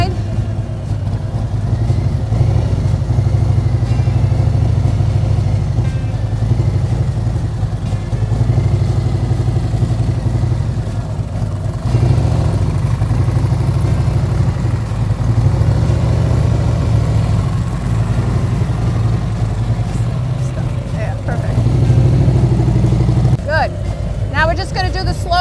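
A motorcycle riding at low speed during a slow-ride practice drill on the road, a steady rumbling engine drone throughout, fairly loud and continuous, with wind noise and a brief clatter near the end.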